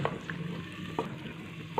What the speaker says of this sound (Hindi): चिकन को डालकर 4 से 5 मिनट के लिए फ्राई करेंगे।